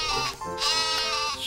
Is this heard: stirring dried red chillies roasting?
no